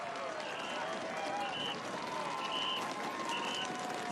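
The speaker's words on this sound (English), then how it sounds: "that crowd, that tunnel of noise, it really is very special" Dense roadside crowd noise roars continuously at a Tour de France stage climb as riders pass, a steady wash of cheering and shouting with faint whistles and horn-like tones rising above it.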